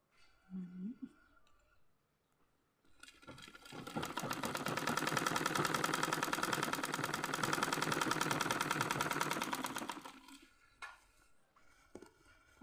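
A sewing machine stitches fabric for a pair of Hmong-style trousers, starting after a short pause and running in a steady, close mechanical whir with a fast ticking rhythm for about seven seconds before stopping; someone speaks briefly before and after.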